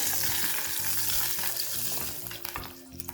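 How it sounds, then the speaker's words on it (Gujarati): Chopped onion sizzles and fries in a pan of masala paste for a Maharashtrian spiced rice dish. The close, steady hiss comes with stirring scrapes and softens toward the end, and nobody speaks. "હવે એમાં એક સમારેલો કાંદો એડ કરીએ છીએ એને પણ આપણે સાતળી લઈએ છીએ"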